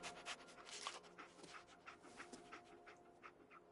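Dogmeat, the dog companion in Fallout 4, pants in quick, steady, faint breaths, alone with no talk.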